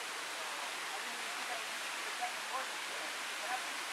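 A steep waterfall roars as a steady, dense broadband wash of falling water, continuous and fairly close, with faint brief tones flickering over it and no talk.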